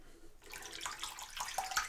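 Cold tap water starts running into a sink after a short quiet moment, a steady close splashing gush that grows slightly stronger.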